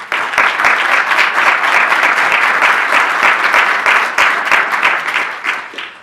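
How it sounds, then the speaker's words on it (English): Conference audience applauding at a land use conference, a dense, steady wash of many hands clapping close by for about six seconds before tapering slightly at the end. "So if you'd like to give him a round of applause, I'd really appreciate it."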